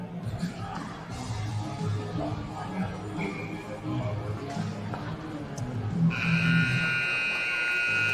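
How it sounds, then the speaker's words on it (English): A long, steady electronic end-of-period buzzer blares over a noisy ice hockey arena crowd, holding a bright sustained tone for the final couple of seconds. "Puck drops and the buzzer blows."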